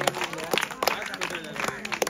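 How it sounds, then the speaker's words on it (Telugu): An audience of students claps at a school Independence Day prize ceremony, scattered uneven hand claps close by mixed with a voice speaking over them, the clapping irregular rather than a full ovation. "క్లాప్స్ కొట్టండి మీరు."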